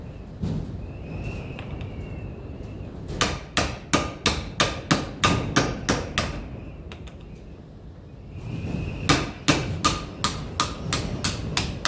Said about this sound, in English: we'll get a lump hammer and tap them out